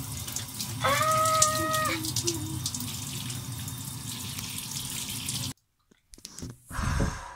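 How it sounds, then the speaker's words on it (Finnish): Water runs steadily from a shower, a close, continuous splashing hiss with a brief tonal squeak early on, then it cuts off abruptly into near silence before a short rustle. "koska kohan se suihku tulee."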